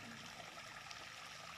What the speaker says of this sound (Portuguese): esse barulho de água